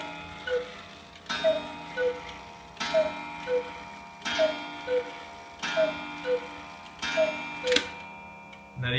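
A large hunter-style cuckoo clock with bone hands, a carved wooden cuckoo bird and an eagle runs steadily, its regular tick-tock beats repeating evenly and close by, with no talking over it.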